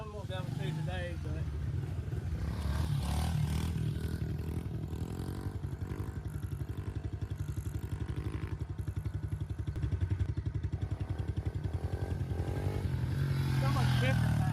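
A motorcycle rides with a continuous, close engine drone and rising revs during wheelie attempts, together with rattly mechanical clatter throughout.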